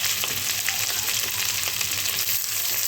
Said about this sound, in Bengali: আলুটা ভাজা হয়ে এসছে এবার আমি এর মধ্যে টমেটো দিয়ে দিলাম